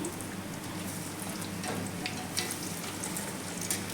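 Bread pakoras fry in hot oil, a steady dense sizzle with scattered bubbling pops, close and even throughout, no voices.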